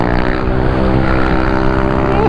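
A stock motor scooter engine, a Mio i 125 or Honda ADV 150 on a night ride along Marilaque, drones loud and close in a steady unbroken roar with no clear revving.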